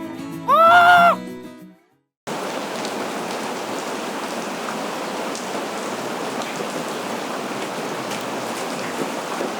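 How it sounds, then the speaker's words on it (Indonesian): Steady rain falls across most of the clip, a dense even hiss that starts abruptly after a short bleating animal cry and a brief silence, all in an outdoor setting. "Hujan tuh."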